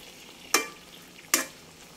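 Sugar melting in a pan, gently stirred: a soft low hiss broken by two sharp scraping strokes of the utensil about a second apart, close and without talk.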